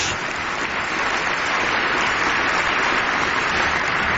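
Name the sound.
applause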